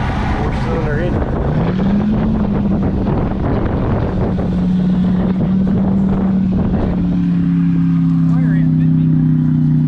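Four-cylinder engine of an Oreion Reeper off-road vehicle at a mud bog, idling and revving with a steady hum that rises in pitch, close by, with wind buffeting the microphone and people talking throughout.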